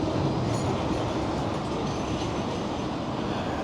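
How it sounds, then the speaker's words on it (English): Old banana-style heritage tram on the Blackpool seafront near North Pier, heard as a steady, loud rolling rumble of wheels on rails that fills the whole moment with no talk over it. "you see the old banana tram which is going"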